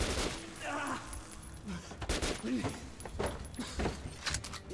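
Scattered gunshots in the video game Metro Last Light Redux, sharp cracks ringing out amid game ambience while someone talks excitedly over them.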